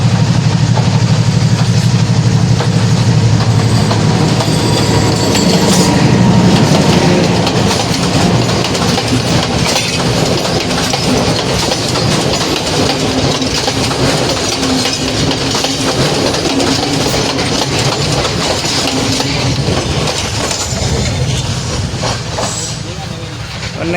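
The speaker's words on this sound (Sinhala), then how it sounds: "ඔන්න එනවා කෝච්චිය" A train passes close by near Meeyan Ella waterfall in Sri Lanka, a loud sustained rumble with rattling clickety-clack of wagons lasting the whole stretch, fading slightly at the end.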